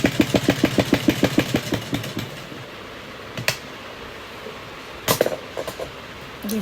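A sewing machine stitches fabric for a small Laddu Gopal summer dress, opening with a fast, even run of needle strokes that slows and stops, followed by a few isolated clunks and short bursts.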